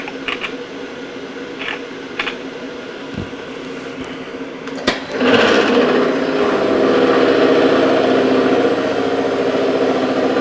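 A metal lathe running at about 800 RPM cuts into metal on a tailstock modification, starting with a few scattered clicks and knocks, then shifting into a loud, steady, close grinding whir that holds to the end.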